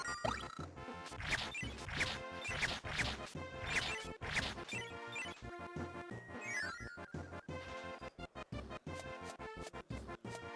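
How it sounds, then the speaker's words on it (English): Explosions in Kirby Super Star Ultra go off as a rapid run of crashing bursts in the first half, then continue over busy game music and chiptune effects, with no voices. "And explosions."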